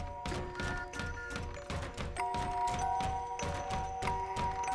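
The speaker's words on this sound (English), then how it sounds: "The window is banging itself shut." In the horror game Layers of Fear, a window bangs itself shut over and over, a loud, regular run of hollow thunks roughly every half second, with a faint tonal hum sustained underneath.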